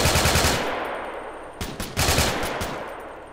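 Gunfire in the military video game Arma 3, a loud rapid machine-gun burst, then a few separate shots and short bursts with echoing decay, no talk over it.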